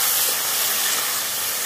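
Water poured into a pan of frying cauliflower stems sizzles with a steady, bright hiss that holds evenly for a moment, close and fairly loud.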